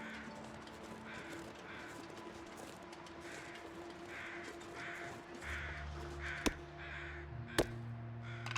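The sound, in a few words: crows cawing in video game Gunloper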